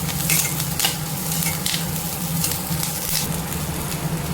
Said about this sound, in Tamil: கேரட்டை கொஞ்சம் முன்னாடியே வதக்கிட்டு அப்புறம் லாஸ்ட்டில் குடமிளகா சேர்த்துப்போம்